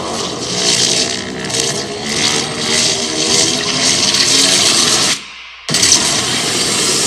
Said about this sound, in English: That's what this car sounds like when you open it up with the Boost Logic titanium exhaust system.